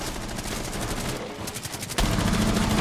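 Gunfire in Rainbow Six Siege rattles in loud, rapid bursts that nearly fill the clip, breaking briefly in the middle before a heavier volley resumes.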